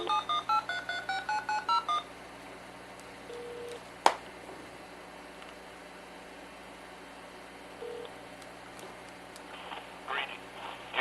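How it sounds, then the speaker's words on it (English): A tone dialer sends a quick run of about ten DTMF telephone dialing tones in rapid rhythm, followed by quieter radio-like static with faint intermittent tones. "I'll do it again. And dial 1718-336-9901 if you haven't picked that up on your tone dialer"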